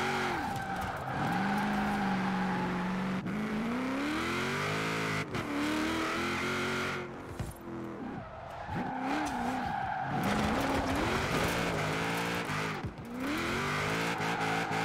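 A Cadillac XTS Limo engine in the Forza Horizon 4 video game, revving and droning continuously while drifting, with rising and falling pitch and repeated tire squeals throughout.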